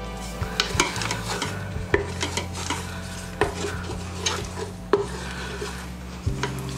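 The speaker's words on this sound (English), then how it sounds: "I'm just gonna give the onions a mix and let that come up to a bit of a bubble" Onions are stirred in a pan while they come up to a bubble: a spoon scrapes and clacks against the pan in irregular strokes over a low steady sizzle, close up and with no talk.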